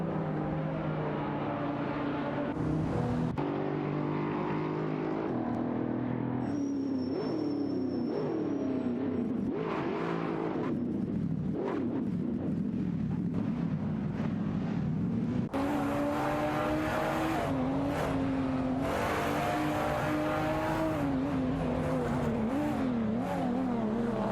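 Race cars compete in an AI racing video game, with a Dodge Viper and a Lamborghini Murcielago SV among them. Engines roar continuously as the pitch rises and falls through gear changes, with occasional tire squeal and passing cars.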